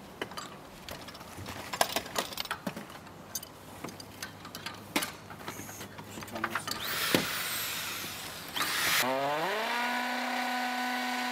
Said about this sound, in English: Here they're drilling a hole through the roof to take the plumbing pipes through